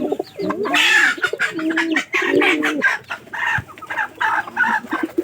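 Chickens cluck steadily at close range while being fed in a backyard pigeon and poultry loft, with repeated clucks and coos and a dense, busy rhythm over the whole stretch.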